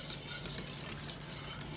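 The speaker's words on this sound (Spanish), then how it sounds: "ahí va, ya está hirviendo" Champurrado, a thick Maseca corn drink, bubbling at a boil in a pot while being stirred, with steady scraping and gentle sizzling close by and no voices over it.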